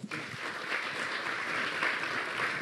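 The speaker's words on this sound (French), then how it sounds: "on vous applaudit" Studio audience applause at the close of a French discussion programme about the Garonne river and Toulouse, a dense, steady wash of clapping that starts abruptly and holds at an even level throughout.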